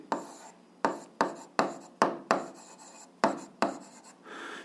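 Chalk or pen writing numbers during an eighth-grade algebra lesson, a series of about nine short scratchy strokes in an uneven rhythm, close and clear, with no talking.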